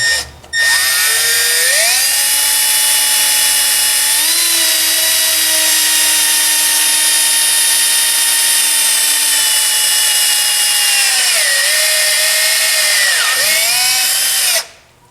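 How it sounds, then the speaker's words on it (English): A power drill whines steadily and loudly, boring slowly through a Ram truck's exhaust pipe, its pitch dipping briefly as the bit bites into metal, running continuously before stopping abruptly. "We're gonna drill it slow so we don't get any metal shavings in our exhaust system"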